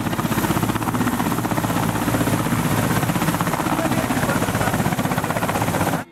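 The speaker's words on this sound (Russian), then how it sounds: "Вертолет Ми-8 авиационно-спасательного звена совершает облет от залива Пасьет до бухты Врангель." An Mi-8 rescue helicopter flies along the coast, its rotor a loud, continuous, rapidly pulsing chop with heavy engine whine that fills the whole stretch without letup.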